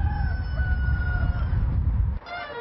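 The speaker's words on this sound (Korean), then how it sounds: "온 산을 뒤흔드는 우렁찬 닭울음 소리가 가득한 이곳에 굿맨이 있다는데" Roosters crow loudly and drawn out on a mountainside in Daegu's Palgongsan area where chickens roam freely, a sustained call over rumbling low background noise that drops away abruptly near the end.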